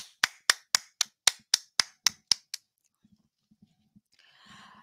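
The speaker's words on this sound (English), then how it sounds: "can we give a round of applause for those people?" Nine sharp, evenly spaced claps ring out close and loud, then stop, leaving faint low thumps and a burst of soft hiss at the end, from someone applauding award winners at a virtual school sports club event.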